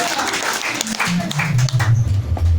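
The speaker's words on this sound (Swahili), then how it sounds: "Piga Yesu makofi mazuri." Church congregation applauds for Jesus in a lively burst of clapping, heard beneath a preacher's voice speaking over it throughout.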